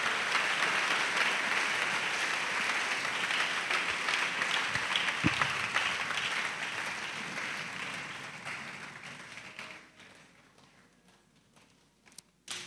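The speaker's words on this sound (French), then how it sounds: "Acclamation à Jésus-Christ. Clappings for Jesus." A church congregation claps and cheers in acclamation during a sermon, a dense steady roar of applause that gradually thins and fades toward the end, with a few scattered claps left.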